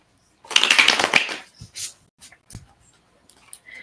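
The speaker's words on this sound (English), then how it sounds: "Gonna shuffle, then I'm gonna pick a card that I would like to be the outcome." Tarot cards being shuffled up close, a dense riffling burst lasting about a second, followed by a few scattered soft card taps and slides.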